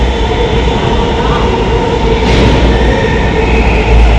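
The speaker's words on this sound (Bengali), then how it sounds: "শিয়ালদার ট্রেন এই তো মেট্রো ঢুকছে" A Sealdah-bound metro train rumbles loudly into the station, a steady low roar with mechanical hum, close by and continuous.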